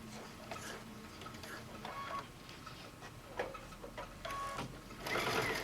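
Domestic sewing machine run with a foot control, stitching fabric for an easy reading book pillow; quiet rapid mechanical needle chatter in uneven bursts with short pauses, speeding up near the end.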